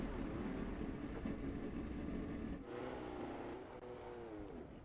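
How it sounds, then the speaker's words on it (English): A lone race car runs on a track during an evening racing session, its engine roaring steadily and close with rising and falling revs and gear changes, holding loud throughout with no talk over it. "A lone car on track right now."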